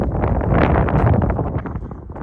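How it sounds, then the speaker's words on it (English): Strong wind gusts roar steadily across an open demolition site where a gas station and plaza are being knocked down, a broad continuous rush buffeting the microphone throughout with no voices. "it's a windy day"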